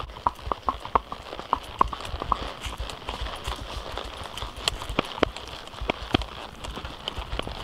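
Horse hooves clip-clopping on a ranch, a string of sharp, fairly close hoof strikes at a walking rhythm over light ambient noise, with no clear speech.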